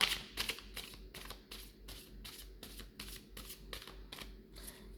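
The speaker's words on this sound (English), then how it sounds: "So I'm clearing the cards." Tarot cards are shuffled by hand in a quick, steady run of crisp riffling flicks, close and fairly quiet, with no talking.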